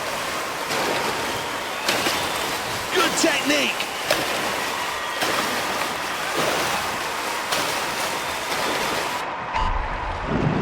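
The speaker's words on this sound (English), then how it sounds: "pulling hard through the water at 25 metres" Continuous water splashing and surf-like wash from swimmers in a race in the London 2012 Olympic video game, steady and fairly loud throughout, with a commentator speaking over it.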